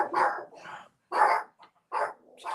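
A dog barks in three sharp, separate bursts with short silent gaps between them, loud and fairly close, with no talk.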